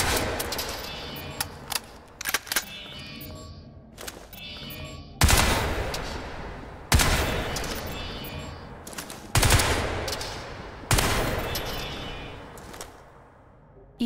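Rapid-firing weapon in the video game Crysis 3, loud bursts of automatic gunfire in repeated strings with short gaps, close and dominant.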